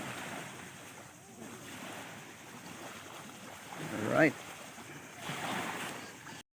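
Steady wash of sea waves against a shore with wind noise, swelling and fading; a person speaks briefly partway through.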